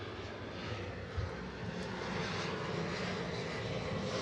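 An airplane passes overhead near an airport, a steady broad engine roar, fairly distant and moderate in level, holding constant throughout with no voices.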